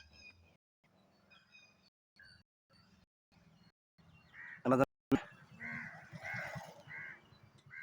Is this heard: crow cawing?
yes